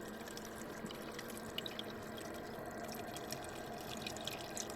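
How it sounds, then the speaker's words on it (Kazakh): Water is poured into a pot over pieces of sheep tail fat layered on bay leaves and black pepper, producing a soft, continuous trickle and splash with light drips, quiet and close. "үстінен суын құятын боламыз."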